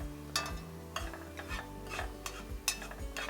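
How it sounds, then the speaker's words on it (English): Ingredients for chicken gnocchi soup being sautéed in a pot, with a spoon stirring in repeated scraping strokes over a soft sizzle, close and moderately quiet. "We're going to saute this for about 10 minutes."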